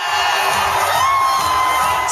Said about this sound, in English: saying the crowd goes wild is the understatement of the century